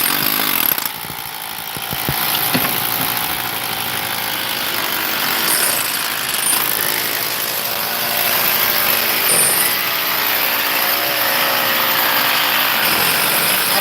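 A loud, steady hammer drill drone with a harsh, grinding whine runs unbroken for the whole stretch, close and dominant, during stone demolition work.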